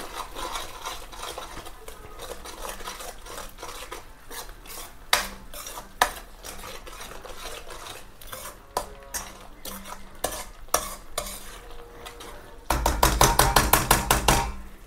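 A spoon stirring cauliflower masala in a metal pan, scraping and clinking close up in a steady rhythm, with faint sizzling and then a burst of louder, quicker stirring at the end.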